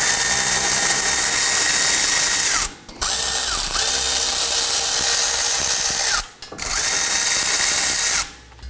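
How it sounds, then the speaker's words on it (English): A loud power tool whirs in three long bursts, each winding down with a brief pause between, spinning out the front wheel hub bolts on a Toyota Camry. "let's switch over to our power tool. Go ahead and zip those out."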